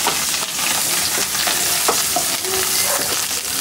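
Onions, curry leaves and coriander sauté in hot oil, a steady loud sizzle with scattered crackles and stirring scrapes throughout, no voices.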